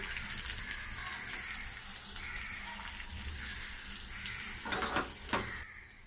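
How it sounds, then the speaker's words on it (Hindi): Garlic, ginger and cumin sauté in oil in a pan, with the gas just switched off. A steady, soft sizzle runs throughout, and a few louder stirring scrapes come near the end. "लसूण आणि अद्रकला तेलात परतून घेऊया।"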